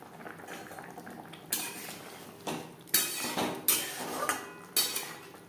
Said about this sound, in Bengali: আলু সেদ্ধ হওয়া পর্যন্ত অপেক্ষা করব